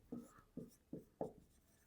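A pen writes on paper during a Hindi decimals maths lesson, making four quiet, evenly spaced scratchy strokes with short pauses between them. No voices are heard.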